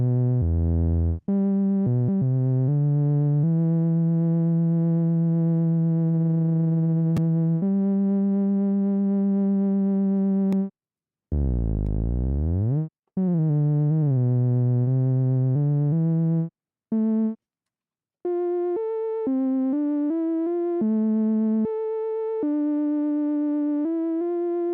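Bright synthesizer notes play a halting sequence of held tones and quick stabs, with a swooping sweep midway and a brighter, sharper timbre later on.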